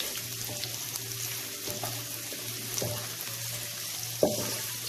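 Boneless chicken frying in oil for chicken fried rice, a steady low sizzle with a few stirring clatters and one sharp utensil knock near the end, close by with no talk.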